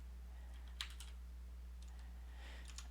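Computer keyboard keys pressed in two short clusters of quick, crisp clicks, close and fairly quiet, with a low steady hum beneath.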